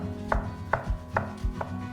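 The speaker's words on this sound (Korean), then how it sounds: "이렇게 해서 표고버섯도 다 썰었어요." A knife slices shiitake mushrooms on a cutting board in four crisp, evenly spaced chops, close and clear with no voices.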